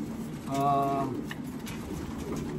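Near a racing pigeon loft during a 250-mile race, a pigeon gives a short, close coo, with voices talking faintly in the background.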